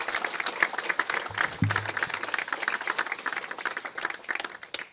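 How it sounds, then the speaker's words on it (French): Audience applause for undergraduate and graduate students at a university graduation ceremony on the Saint-Jérôme campus, steady moderate clapping from a crowd throughout. "une bonne main d'applaudissements, tant pour les diplômés de premier cycle que ceux de cycle supérieur"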